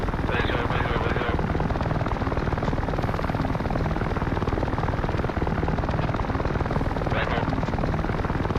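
Aircraft rolling down a runway for takeoff in a video game: a loud, steady engine roar fills the whole stretch, with faint voices now and then underneath.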